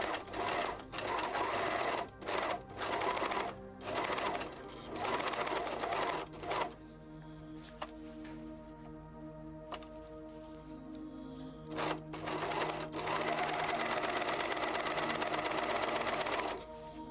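A serger stitches a chain seam in bursts of fast, steady mechanical whirring, pausing briefly around the middle before running again, close and loud with no talk.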